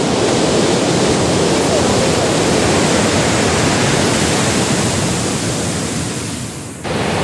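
Rough sea surf pounds the beach along the Costa Verde in Miraflores, Lima, a loud, dense, continuous roar of breaking waves close by, easing slightly near the end.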